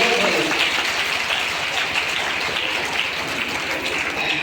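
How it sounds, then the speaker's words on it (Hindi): A wedding-hall audience in Ballia bursts into loud, dense applause, a steady hiss-like roar of many hands clapping together that carries on unbroken throughout. "जोरदार ताली"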